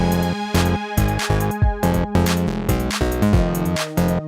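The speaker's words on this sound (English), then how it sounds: "I made these really cool pad things out of the worst sound I could possibly find" A synth pad built from a deliberately harsh, ugly source sound pulses in loud rhythmic chords with dense bright overtones, stopping briefly between stabs.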